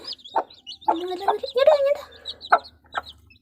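Backyard hens and chicks, including a white hen with feathered feet, clucking in short close bursts with small chirps between, in a quiet setting.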